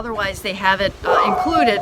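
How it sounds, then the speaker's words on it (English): A pet dog yips and barks in the background of a home interview recording, short excitable bursts mixed in with a person talking over it. "That's my dog in the background."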